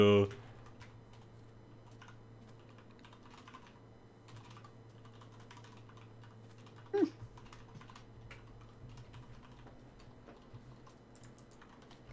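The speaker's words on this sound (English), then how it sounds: "My keyboard isn't that loud." Someone types steadily on a computer keyboard during a Minecraft gaming session, with quick, close key clicks running throughout. A couple of louder knocks break in, and faint speech sits underneath.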